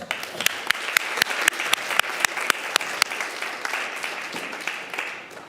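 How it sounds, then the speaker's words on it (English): Steady applause from a crowd at a school board meeting, with sharp rhythmic claps standing out above the dense patter, continuous and close throughout. "join me in giving them a round of applause"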